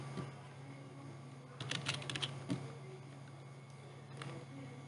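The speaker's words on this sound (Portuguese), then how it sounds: "Irei digitar o meu nome aqui." Typing on a computer keyboard while entering a name in the Vim editor: quiet, quick clusters of key clicks with a short pause between bursts, close by over a low steady hum.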